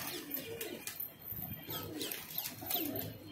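Pigeons coo repeatedly in a loft, soft throaty calls rising and falling with occasional chirps and wing flutters, fairly close and steady with no talking.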